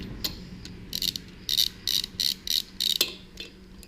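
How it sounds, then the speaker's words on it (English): A wrench lightly tightening nuts on a VW aircooled engine, a quick run of close ratcheting clicks in short bursts, fairly quiet with no talk. "the first step's going to be just lightly tightening them down here with this wrench"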